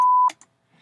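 A signal generator test tone in a mixing session sounds as a brief, pure, steady beep lasting about a quarter second, ending with a short click and a faint blip.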